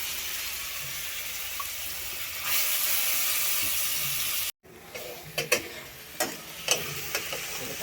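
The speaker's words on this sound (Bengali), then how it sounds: "একটু এই যে গোটা জিরে ফোড়ন" Whole cumin seeds sizzle in hot oil for a vegetarian mushroom curry, a loud steady hiss that breaks off abruptly, followed by quieter crackling with a few clinks of a utensil.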